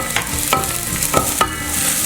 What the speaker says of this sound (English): We're going to quickly toss it around until it's really fragrant